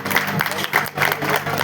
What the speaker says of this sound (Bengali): ওর জন্য একটা জোরে হাততালি হোক